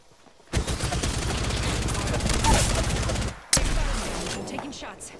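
Rapid video game gunfire rattles in dense, continuous bursts. It breaks off for an instant, then resumes with a sharp shot and keeps firing at a lighter pace.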